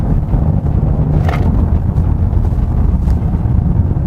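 Ford Mustang engine and exhaust in normal exhaust mode while cornering, heard from inside the cabin as a steady, loud, low rumble mixed with road and wind noise, with no one speaking.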